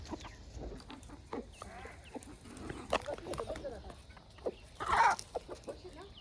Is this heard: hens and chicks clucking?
yes